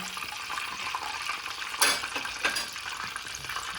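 Mushrooms drop into a hot frying pan for a chicken mushroom bhuna, giving a steady hiss and sizzle with a couple of sharper splashing bursts as they land and settle.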